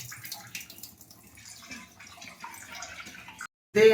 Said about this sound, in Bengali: চিকেনটাকে ভালো করে ধুয়ে নিচ্ছি